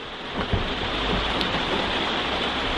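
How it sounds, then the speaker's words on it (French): Steady, dense rain pattering on a camper van roof overhead, a continuous close hiss with occasional heavier drips. "je pense que tu entends le bruit de la pluie"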